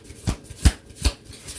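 Tarot cards shuffle in three soft, evenly spaced riffles during a card reading, close and quiet with no voice over them.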